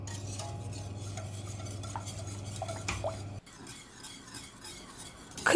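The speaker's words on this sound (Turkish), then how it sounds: "Bu malzemeleri iyice karıştırdıktan sonra muhallebimi ocağa alıyorum. Kaynayana kadar karıştıracağım." Milk pudding is stirred in a pot on the stove to bring it to a boil, the spoon scraping and clinking steadily against the pot close up, with a low hum underneath.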